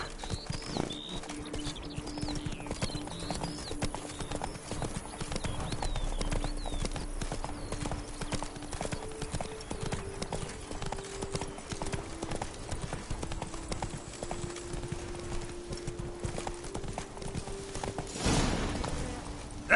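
Roach, a horse in The Witcher 3, gallops with steady, rapid hoof clip-clops throughout, with game music and ambience beneath and a brief louder burst near the end.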